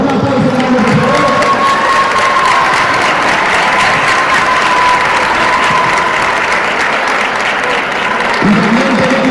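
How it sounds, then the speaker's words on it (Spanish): A large audience at a weightlifting competition gives sustained, loud applause with scattered cheers, a steady roar of clapping throughout the hall with no break. "Un aplauso grande, por favor."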